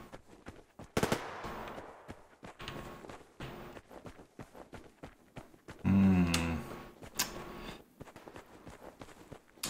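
SKS rifle fire rings out in Survarium, a post-apocalyptic shooter, as a scattered series of sharp, fairly faint shots and footsteps with one louder, heavier burst in the middle.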